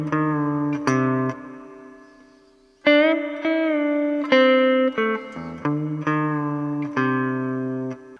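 Electric guitar plays a song's intro lick alone, with clean sustained notes, a bent note and short repeated phrases that come in several separate bursts.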